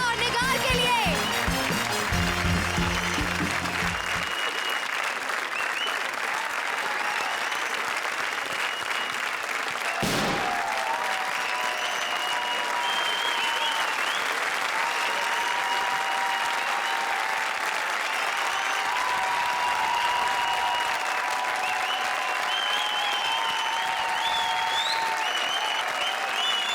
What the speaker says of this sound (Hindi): जोरदार तालियां राजा और निगार के लिए।